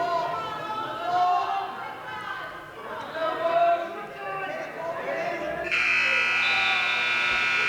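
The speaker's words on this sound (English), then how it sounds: "And there's the buzzer to end the match." A buzzer ends a high school varsity wrestling match with a loud, sustained electronic tone late in the clip. Before it, a commentator talks over crowd chatter in the gym.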